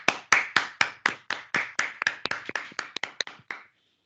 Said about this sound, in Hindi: इस जिंदा किताब के लिए, सच्ची किताब के लिए जोरदार तालियां बजाएं